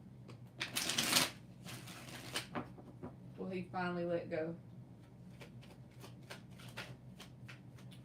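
Tarot cards being shuffled by hand, a quick riffling burst early on and another crisp riffle mid-clip, close and clear, with someone talking before and between the shuffles.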